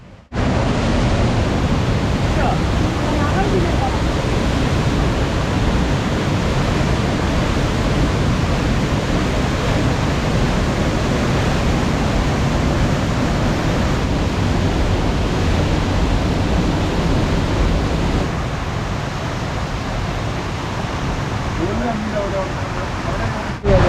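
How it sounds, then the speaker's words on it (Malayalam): A waterfall dropping water from about 300 feet makes a steady, loud, unbroken broadband roar that fills the whole stretch without pause. "ഏകദേശം 300 അടി ഉയരത്തിൽ നിന്ന് വെള്ളം താഴേക്ക് വീഴുന്ന കാഴ്ചയാണ് ഇവിടെ ഉള്ളത്."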